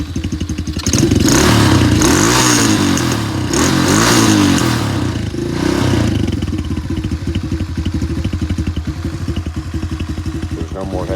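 A Coolster 125cc quad ATV with an upgraded carburetor, close and loud, revs in several strong bursts and then settles into a rapid, clattery idle.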